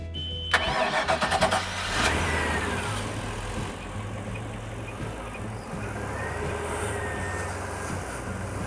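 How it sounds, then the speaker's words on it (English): A starter cranks with rapid clicks, then an engine catches and settles into a steady rumbling idle, close by. "So again, I'll have Tanya start the engine."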